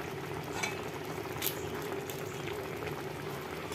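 A pot of ginataang bangus, milkfish stewed in coconut milk with vegetables and chili, bubbles and simmers steadily, with soft popping and a faint clink or two, no talking.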